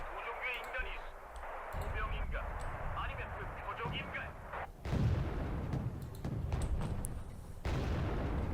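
Artillery fire in the Wargame Red Dragon strategy game, Busan Pocket battle, rumbles in heavy low booms and blasts beneath continuous talking, with a stronger impact near the middle.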